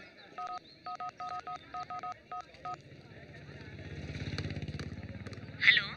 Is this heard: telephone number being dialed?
yes